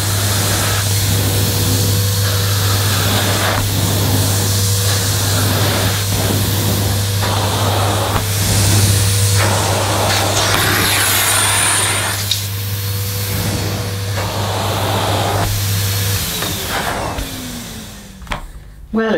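A Numatic Nuvac VNR200 vacuum cleaner runs in a steady, loud drone with a strong low hum, its tone shifting as the nozzle is pushed and pulled, before the motor winds down near the end.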